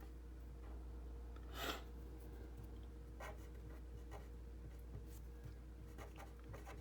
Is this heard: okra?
no